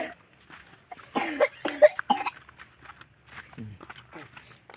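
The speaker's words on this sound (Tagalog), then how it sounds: "Ubo ani niya guys, mga 3 na buwan." A person with a cough that has lasted about three months lets out a quick cluster of three or four harsh coughs, close by, with people talking before and after.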